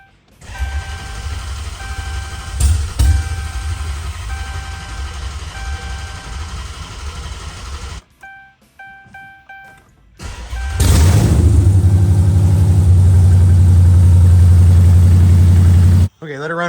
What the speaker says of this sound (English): This thing is going to be freaking loud because it is open header because it has no exhaust on it